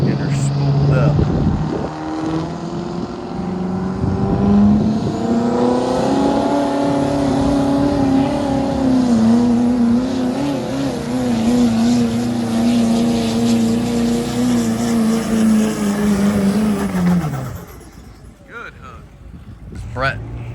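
A Duramax diesel pickup truck spools up at the King of the Street 2024 sled pull, a loud, sustained diesel roar with a rising turbo whine that holds for about fifteen seconds and then cuts off abruptly, with voices underneath.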